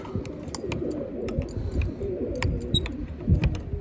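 Pigeons coo softly and repeatedly over a low rumbling background, with a few faint chirps scattered throughout.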